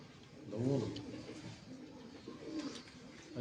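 Pigeons coo in low, soft rolling calls, one near burst followed by quieter coos, over faint background noise.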